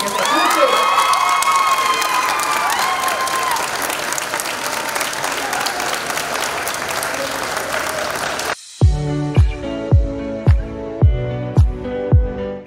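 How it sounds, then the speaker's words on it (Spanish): Applause mixed with cheering and children's shouts from a crowd at a palliative care fair, loud and dense for about eight seconds, then cutting to a sparse run of separate sharp hits. "¡Vamos! ¡Un aplauso! ¡Que se escuche!"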